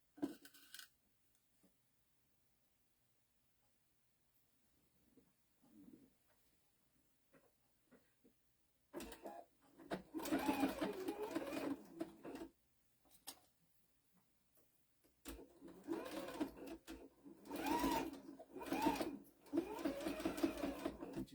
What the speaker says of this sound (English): Then you just sew a stitch, straight stitch across to close up the opening.